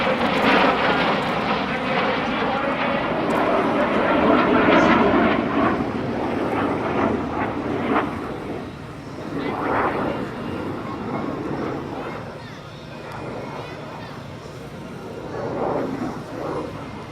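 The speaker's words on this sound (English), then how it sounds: "The Hornet and Legacy Navy aircraft coming right down our show line." An F/A-18C Hornet and a T-2 Buckeye fly together down the airshow line, a loud sustained roar of jet engines that swells and fades over several seconds, with brief crowd or announcer voices faintly beneath.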